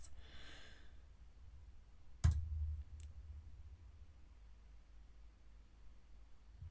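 A computer mouse clicks twice in a quiet room, one sharp click followed by a fainter one under a second later, with only low background hum around them.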